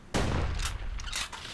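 Gunfire from a weapon in the video game Bastion, a loud sustained burst of blasts with a few sharper cracks near the end, close and dominant with no talk.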